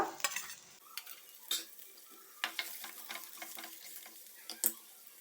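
Ginger and garlic frying in a pan for an Indian-style chicken stew: sharp, irregular spatula clinks and taps ring out close by over a faint, quiet sizzle.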